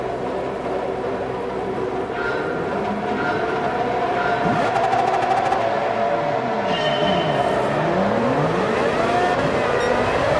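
A grid of race cars at Suzuka in Gran Turismo 7 pulling away from the start: several engines rev and climb through gears together, pitches sweeping up and down in overlapping whines, loud and continuous.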